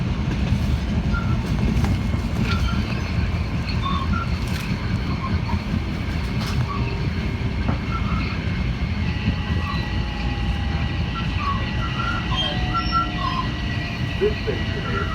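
A commuter train runs steadily on rails between Melrose and White Plains, a continuous low rumble and rattle from inside the car with faint clicks, heard close and constant throughout, with some talk nearby.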